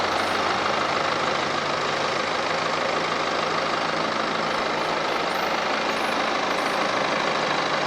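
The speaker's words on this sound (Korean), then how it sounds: "엔진 소리 일정하고 좋습니다." A BMW 5 Series G30 520d diesel engine idles steadily with a low rumbling drone and constant broadband noise, holding an even level throughout with no speech.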